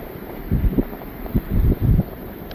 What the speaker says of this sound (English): Yeah, it's wild today. It's an offshore wind.